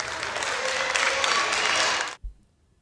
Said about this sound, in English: He got claps.